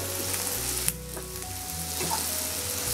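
Chopped onions fry in oil in a non-stick kadai with a loud, steady close sizzle, broken by a brief scrape of the stirring spoon.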